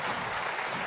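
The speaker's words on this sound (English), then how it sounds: "He gets some applause" Crowd applause for Luca Brecel at the 2023 Shanghai Masters snooker final against Ronnie O'Sullivan, a brief, steady wash of clapping from the arena audience.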